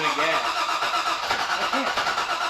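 A car engine is given gas, its revving drone holding steady and loud at close range with slight surges in pitch.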